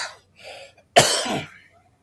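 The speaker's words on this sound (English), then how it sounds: "I see you still got your cough" A man's single rough cough, close and loud, preceded by a couple of soft breaths or throat sounds.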